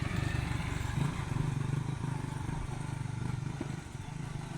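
Motorcycles coming in from the fields produce a close, steady engine drone with rattling clatter, continuous and fairly loud for the few seconds heard.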